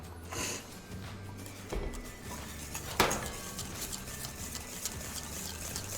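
Spoon scraping and clinking against a mixing bowl as blueberry yogurt is stirred into no-bake Christmas cheesecake batter, with steady close-up scrapes and one sharper knock partway through.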